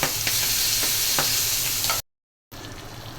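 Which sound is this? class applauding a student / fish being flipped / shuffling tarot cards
fish being flipped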